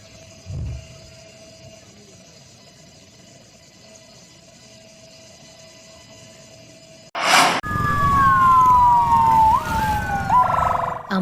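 A parade ambulance at an Independence Day procession in Kutai Timur sounds its siren, cutting in loudly after a quiet stretch, with wailing tones that rise and fall over heavy street noise and crowd bustle.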